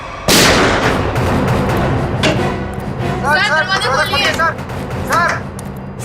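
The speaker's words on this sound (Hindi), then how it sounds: "गनशॉट।" A loud gunshot bangs out sharply near the start, followed by noisy rumbling and scattered clatter, with some voices in the background.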